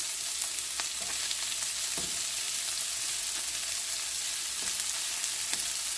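Salmon and vegetables fry in a pan over low heat, giving a steady close sizzle with scattered light scrapes and stirring taps, and no talking.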